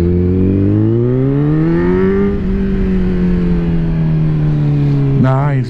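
A Kawasaki Z900 motorcycle engine revs up, its loud tone climbing, then settles into a steady drone before a sharp final blip at close range.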